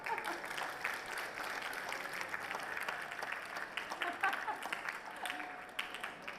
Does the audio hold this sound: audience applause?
yes